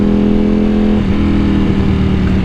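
A 2021 Ducati Panigale V4 SP motorcycle engine runs loud and close with a steady, throaty idle and a slight shift in pitch partway through, with no speech.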